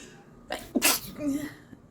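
One sharp sneeze from a person close by, a quick intake of breath and then a burst, followed by a short voiced groan.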